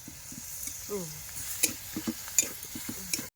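Leafy greens stir-fry in a thin, overheated wok over a fiercely burning wood fire, a soft steady sizzle with scraping stirs and a few clinks, fairly quiet, with brief voices in the background.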